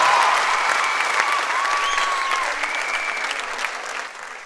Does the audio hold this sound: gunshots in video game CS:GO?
no